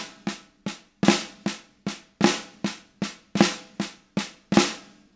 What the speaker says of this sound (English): which was based on a Swiss Army triplet, which is a pretty common rudiment